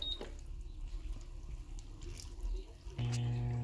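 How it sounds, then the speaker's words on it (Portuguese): Water runs into the soap dispenser of an Electrolux 12 kg washing machine, a soft trickling splash that gives way to a sudden steady hum and gush as the fill starts in earnest near the end. "ela começa a cair a água aqui, ó, que é pra diluir o sabão"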